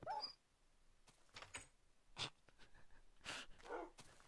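Dog barks and whimpers from a tamed wolf in the Minecraft video game, heard as several short, faint yelps and whines spaced through the clip with quiet gaps between.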